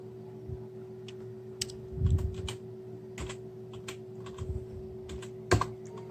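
Close computer keyboard typing while entering a cheat code in GTA V, with scattered quick key clicks and a few heavier presses over a low steady hum, no voices.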